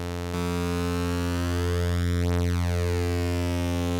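A steady, buzzy tone from a Behringer Phara-O 1 synthesizer with three oscillators in unison mode, producing a thick sustained note with slow phasing shimmer.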